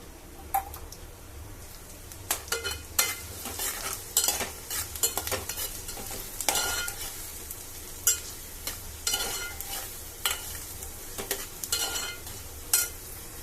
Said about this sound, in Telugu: నూనె ఎగిన తర్వాత ఆనియన్స్ వేసుకున్నాం పచ్చిమిరకాయలు వెళ్ళిపోయినాం